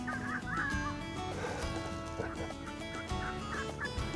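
Several wild turkey hens yelp and cluck at a distance on a levee, short calls repeating over a low steady background.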